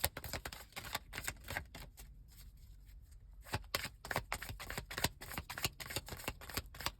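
Repeated sharp riffling bursts of tarot cards being shuffled, close and crisp, with a short quieter pause midway before the flicking resumes.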